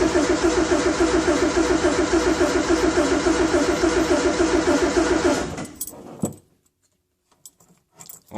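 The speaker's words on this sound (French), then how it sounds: "C'est la première fois que je redémarre une bagnole de ma vie." A 1973 Alpine V85 1300 VC engine cranks and runs with a loud, steady, rough rhythm for about five seconds, then cuts out, leaving a few scattered clicks and knocks.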